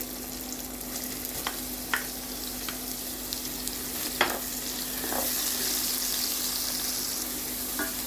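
Onion fries with garlic in a pan for lamb mechado. A steady close sizzle runs throughout, broken by occasional scraping stir clicks, with no talking.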